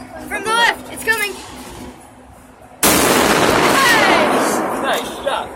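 A child fires a shotgun outdoors: a single loud, sharp blast that rings on into a long echo, preceded by adults speaking instructions nearby.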